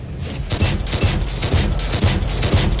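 Tank gun rounds fire in the console version of World of Tanks as a dense, loud volley of repeated booming blasts with rumbling impacts, filling the whole stretch without a pause.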